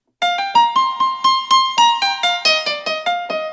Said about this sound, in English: So you can make it muffled or unpleasantly bright.